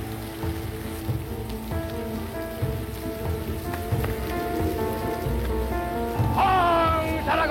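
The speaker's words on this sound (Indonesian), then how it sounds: "Sekarang saya akan menghentikan hujan ini." Heavy rain pours steadily by a riverside, a dense continuous hiss with tonal musical sounds layered over it and a brief sharp rise near the end.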